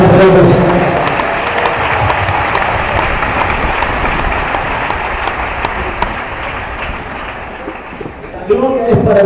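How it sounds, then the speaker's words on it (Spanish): A church congregation claps hands together in a sustained, loud, dense round of applause that gradually tapers, with voices speaking briefly at the start and end. "Vamos a dar palmas al Rey de Reyes."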